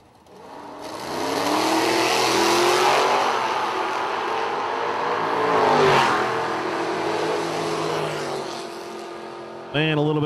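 A Z28 Camaro and a Duster drag racing at a street nationals event, engines roaring loudly as they launch, then the sound swelling again and fading, with faint commentary over it.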